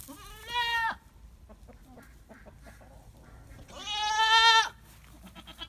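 Two loud, wavering bleats from hungry goats ring out close by, one short and one longer, separated by quiet shuffling and faint background noise.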